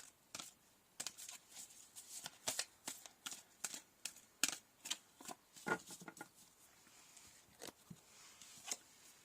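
A deck of oracle cards is shuffled by hand, producing quiet, rapid bursts of riffling and flicking in an uneven rhythm, close and alone.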